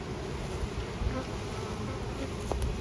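Honeybees fly around a hive box as a colony is installed, a faint, steady buzzing drone hanging in the air, soft and continuous with a few brief closer passes.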